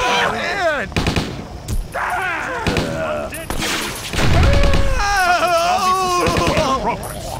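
Bursts of gunfire crackle in Stubbs the Zombie amid frantic shouting and screaming voices, the shots loud and mixed under the panicked talk.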